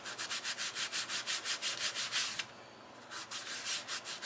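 A dry baby wipe is rubbed back and forth over a sanded wipes-container lid, making steady rhythmic scrubbing strokes that pause briefly and then resume, close and faint with no voices.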